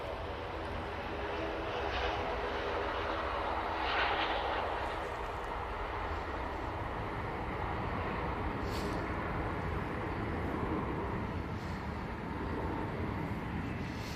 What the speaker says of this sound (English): Ryanair 737 MAX 8 now rotating